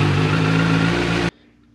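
A motorcycle engine cranks on its starter button and catches, running loud and steady close by for over a second before cutting off abruptly.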